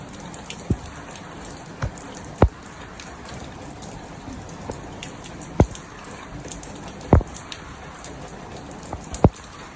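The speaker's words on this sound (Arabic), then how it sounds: "ها شتا ها العجاج" Rain falls steadily as a soft, broad hiss, punctuated by a handful of sharper, louder drops or taps scattered across the stretch, with no voices.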